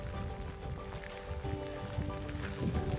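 Torrential rain pouring down on a trail in Norway or Sweden, a dense, steady hiss of heavy drops drumming on surfaces, loud and continuous with no talk.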